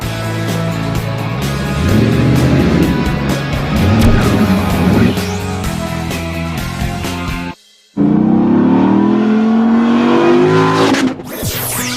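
A 2014 Ram heavy-duty truck's 6.4-liter HEMI V8 revs loud and close, its pitch sweeping up and down after a brief silence, with steady tonal music before it.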